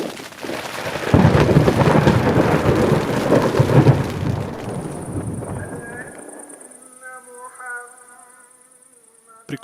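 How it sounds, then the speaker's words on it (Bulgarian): A thunderstorm strikes a mountain campsite in Turkey, with heavy rain and deep rolling thunder booming loudly for several seconds, then fading to a quieter patter with faint calls of birds or insects. "Дано се размине бурята."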